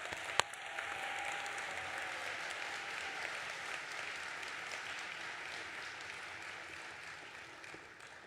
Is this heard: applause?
yes